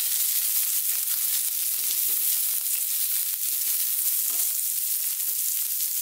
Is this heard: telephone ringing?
no